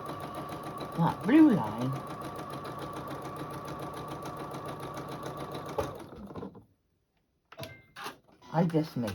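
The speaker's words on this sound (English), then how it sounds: "I just want to sew down, straight down," A domestic sewing machine runs a straight stitch in a steady mechanical whirr, stops briefly, then restarts, with someone talking over the start and again at the end.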